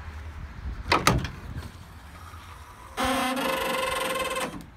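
Pickup truck tailgate fitted with a DeeZee tailgate assist (DZ43300): a short creak and clunk as it releases, then a sustained damped creaking groan while it lowers slowly.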